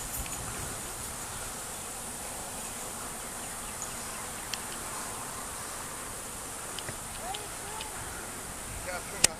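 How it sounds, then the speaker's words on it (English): A honeybee swarm hums in a constant insect drone while being captured into a hive outdoors in grass, with a few sharp clicks and taps scattered through it and faint voices in the background. "Capturing a hive of bees."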